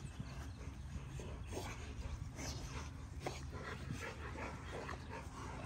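Pit bull dogs play and whimper over a constant noisy background, with scattered yips and soft whines throughout.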